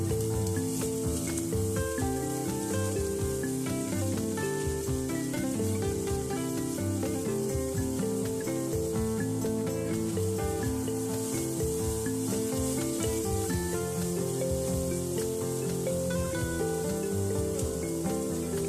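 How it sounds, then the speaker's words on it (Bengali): Mixed vegetables with green peas fry in a wok, giving a steady, even sizzle that holds at a constant level throughout without any talking. "এবার দিয়ে দিলাম কড়াইশুটি এবার সবজিগুলো ভালো করে ভেজে নেব"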